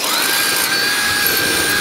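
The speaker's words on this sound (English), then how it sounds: "I will be drilling those holes and removing these components too." A power drill bores holes in a mining rig rack, giving a steady, close, high-pitched whine that holds for the whole short burst.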